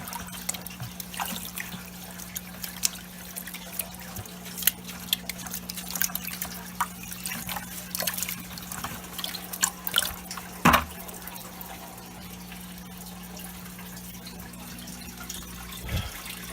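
Water pours and trickles into clean aquarium water during a fry-safe filter modification, a steady close liquid dribble with scattered drips and a brief louder splash partway through.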